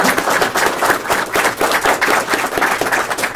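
Audience at a Howard Days panel applauding, dense steady clapping from many hands, loud and close, filling the moment without speech.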